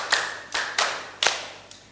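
A classroom group claps together in a counted rhythm during a microteaching practice session, with four sharp, close claps followed by a fainter fifth, spaced roughly half a second apart.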